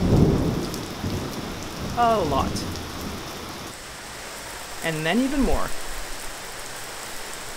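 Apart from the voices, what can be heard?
heavy rain with thunder on a wooden deck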